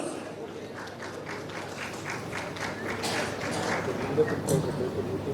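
A press-meet audience applauds as a film editor is welcomed on stage, with soft, scattered clapping that swells slightly toward the end, heard over a speaking voice.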